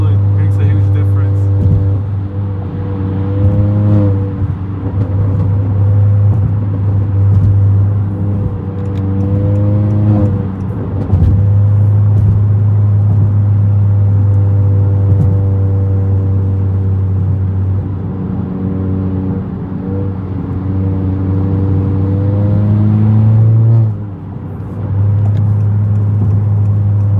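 A 2019 Honda Accord Sport 1.5T with a tuned exhaust drones loudly and steadily up close, its low rumble shifting in pitch as the engine revs, with a brief dip near the end.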